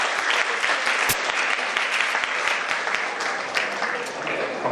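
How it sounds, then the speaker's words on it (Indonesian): An indoor audience applauds Pak Sandiaga Uno with steady, dense clapping that stays loud and even throughout and never drops away. "Kita beri aplaus buat Pak Sandiaga Uno."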